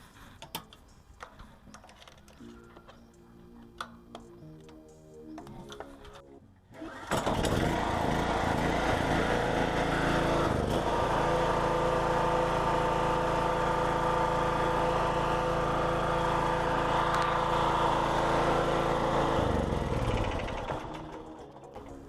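A Zegor 3 kW dual-fuel gas and petrol generator cranks and catches at once, then settles into a loud, steady engine roar that holds close by before cutting off near the end, with quieter clicks and handling beforehand.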